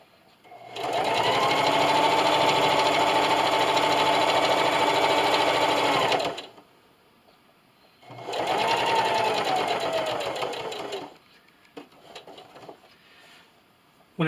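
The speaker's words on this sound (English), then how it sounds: "I'm going to backstitch. And then I'm just going to sew it on." A sewing machine stitches quilt binding onto a Halloween quilt-as-you-go table runner, running steadily for about six seconds, pausing, then running again for three more seconds before stopping, close and clear.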